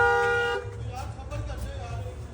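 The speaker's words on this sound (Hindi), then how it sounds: "अच्छा कॉइल्स तो हॉर्न किसको दे रहे हैं?" A car horn sounds one short, clear toot up close, then cuts off, leaving low background rumble with voices nearby.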